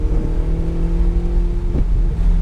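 A Ferrari 488 GTB engine accelerating on the Nelson Ledges track, a loud, steady droning roar with a rising tone heard close from inside the car and a brief shift-like dip near the end.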